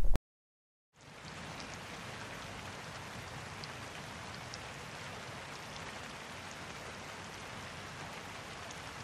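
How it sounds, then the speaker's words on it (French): Steady rain falling and pattering on surfaces, a dense even hiss that starts after a second of silence and continues unchanged, moderately close. "La pluie ne cesse de tomber."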